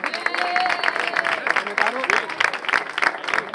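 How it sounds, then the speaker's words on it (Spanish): An audience at a Sevilla FC business club end-of-season gala gives steady applause, a dense continuous clapping that fills the room with many hands beating in a fast, even rhythm. "Fuerte aplauso para ellos."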